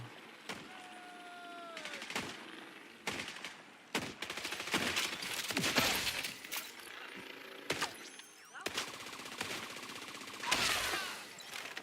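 Gunfire in the Division 2 video game: bursts of automatic fire and single sharp shots at uneven intervals, some close and loud, others farther, mixed with mechanical clicks and rattles, with no talk.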